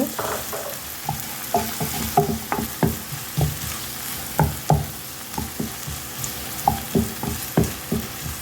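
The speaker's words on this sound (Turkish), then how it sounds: "Ardından 2 adet yeşil biberimi ekliyorum. Karıştırıyorum." Two green peppers fry in a pan while being stirred, a constant hot-oil sizzle broken by repeated clattering scrapes of a spoon in a steady, uneven rhythm, close up and without speech.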